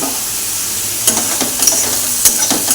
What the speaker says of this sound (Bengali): এখানে আর মাছ কষাচ্ছি